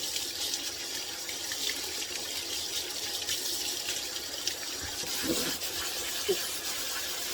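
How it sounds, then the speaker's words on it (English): Tap water runs steadily through a small strainer, rinsing quinoa at a kitchen sink. The hiss is soft and continuous, with a few louder splashes near the end. "I'm just going to put it in a little strainer, and we're going to just give it a really good rinse"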